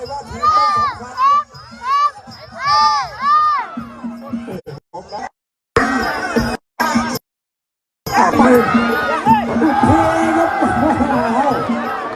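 A crowd cheers and shouts at a Muay Thai boxing match with a 20,000-baht side bet, a loud, continuous roar of voices that cuts out in brief gaps and then swells back, with an announcer talking over it.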